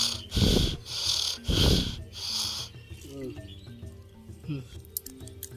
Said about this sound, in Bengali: জোরে জোরে শ্বাস নাও